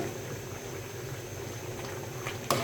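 Gourd and two eggs simmer in a covered pot, a continuous low bubbling with a faint liquid hiss, close and steady, ending on a sharp clink.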